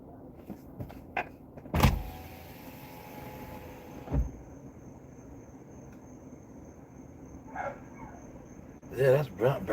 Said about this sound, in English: Is that my dog barking?